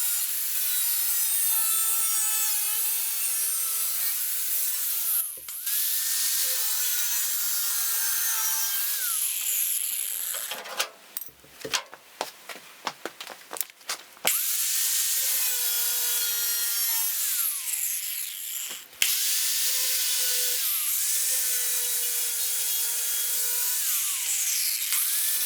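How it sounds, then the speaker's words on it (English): An angle grinder removes the old lip from a rusty 65-year-old steel fender on an International Harvester truck, a loud continuous whine with a choppy stuttering stretch of on-off bursts midway, then steady grinding again. "so out comes the grinder again"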